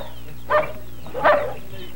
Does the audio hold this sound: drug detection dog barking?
yes